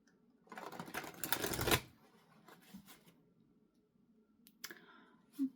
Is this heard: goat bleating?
no